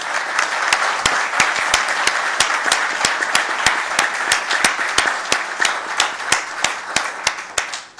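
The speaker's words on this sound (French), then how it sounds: "Alors applaudissons-les et célébrons comme il se doit aujourd'hui une PME marocaine" Sustained audience applause at a stock exchange listing ceremony for the Moroccan company Disty Technologies, a dense steady wash of many hands with a few sharp, louder claps standing out in a regular pattern, heard alone without talk.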